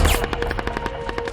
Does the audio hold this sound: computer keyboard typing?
no